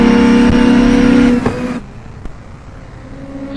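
Race cars running side by side in a heat race, engines roaring loud and close with strong steady tones before easing off and fading as they pass, with a fainter engine hum continuing afterward.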